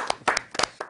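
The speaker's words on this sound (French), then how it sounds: "Et on va vous applaudir." A short burst of clapping from a theatre audience at a stage hypnosis show, a handful of sharp, fairly close claps in quick uneven succession.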